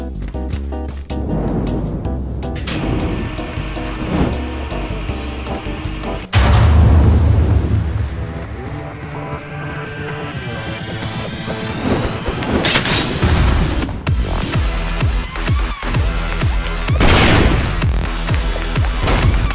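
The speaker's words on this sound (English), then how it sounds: "Up next, Spider-Tron 5000 throws explosive bombs." In the video game Clone Drone in the Danger Zone, the Spider-Tron 5000 robot throws explosive bombs. They set off loud, heavy booms and rumbling blasts that sit over busy game music and effects, with a big detonation partway through.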